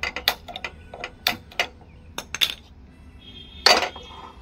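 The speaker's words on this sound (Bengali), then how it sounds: "এদিকে গ্যাসের ফ্লেম অন করে দিয়ে আমি একটা কড়াই বসিয়ে দেব।" A metal kadai (wok) is set down on a home gas stove as the flame is lit for cooking chutney, giving a scatter of sharp metallic clicks and clinks, then a louder clattering knock near the end, with no talk.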